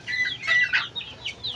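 Several large hens cluck and chatter in quick, overlapping bursts, close and fairly loud.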